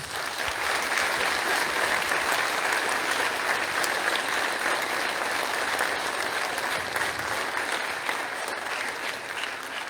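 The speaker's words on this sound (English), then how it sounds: "Please help me give this group of amazing people a big round of applause." A crowd applauds the band members at a school spring band concert, a long, loud, even wash of many hands clapping that holds steady throughout, with no voices over it.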